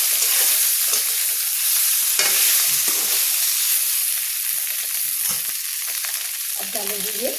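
Diced potatoes and cumin seeds fry in hot peanut oil for a fasting-day breakfast, giving a loud, steady, crackling sizzle that runs the whole way through, with a few soft stirring clicks near the end.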